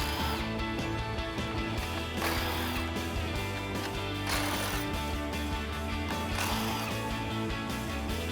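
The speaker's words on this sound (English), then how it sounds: "so I'm switching over to an impact gun and a deep socket" An impact gun with a deep socket removing 10mm grille bolts from a 2014-2015 Chevrolet Silverado 1500, with a continuous loud mechanical rattle and hammering, close and without pause, and no talk.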